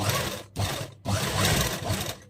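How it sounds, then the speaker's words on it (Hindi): A sewing machine runs loud and steady while stitching an Afghani salwar, whirring in three bursts separated by brief stops, close up and with no talking. "इस पर हमें स्टिच लगाएंगे, सिलाई देखते हुए, और हमें इस पर स्टिच लगा लेंगे"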